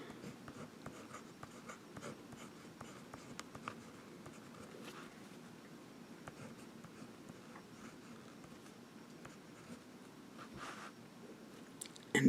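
A Jinhao 750 fountain pen with a medium steel nib scratches softly across paper in short strokes and pauses, faint and close with no talk.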